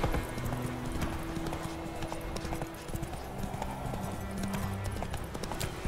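Continuous galloping hoofbeats of a horse in The Witcher 3, fast even clip-clop rhythm over game music and ambient sound.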